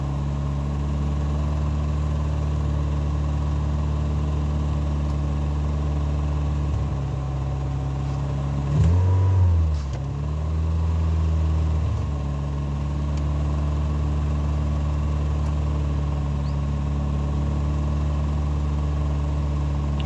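A Volkswagen Golf GTI engine idles steadily up close, then rises in a couple of brief revs midway before settling back to a smooth idle.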